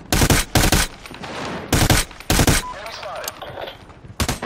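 M16A4 DMR rifle firing in a shooter game: loud, close bursts of gunfire in quick pairs and clusters, with brief gaps of echoing ambience between them.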